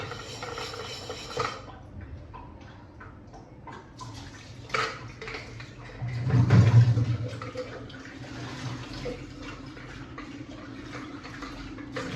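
Clean water poured and splashed while rinsing during household cleaning, with intermittent sloshing and scrubbing noises and one louder surge of water midway.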